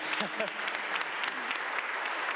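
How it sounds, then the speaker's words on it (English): A round of applause for council spouses at a city council swearing-in ceremony in Cleveland, a short burst of crowd clapping in a hall with brief voices over it at the start. "really just a quick round of applause for all the council spouses"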